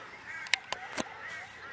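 A goose near a house's front door gives a few short, nasal honks in quick succession, faint and slightly distant, over quiet background noise.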